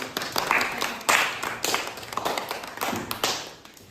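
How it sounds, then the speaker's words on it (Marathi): A short round of applause for Vaishnavi, a few bursts of clapping and taps that rise and fade over four seconds, fairly close and moderate in volume. "वैष्णवीसाठी पुन्हा एकदा टाळ्या होत्या"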